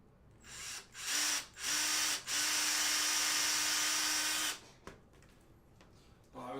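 Several short bursts of a small power drill whirring at close range, rising and stopping in quick succession, then one long sustained run before cutting off, with quiet pauses between.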